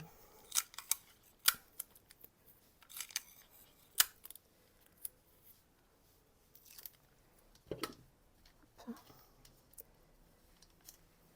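Scissors snip a small piece of adhesive tape in a quiet room, with sharp irregular clicks and crinkly tape rustles spread over several seconds and no talking.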